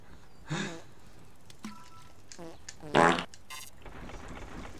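A fart sound effect from the Family Guy PS2 video game, several short wet blasts scattered among other game noises and someone talking.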